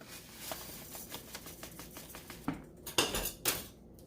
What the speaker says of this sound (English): So we're going to mix this all around like this